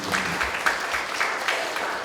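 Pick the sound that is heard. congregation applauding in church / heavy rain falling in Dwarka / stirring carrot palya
congregation applauding in church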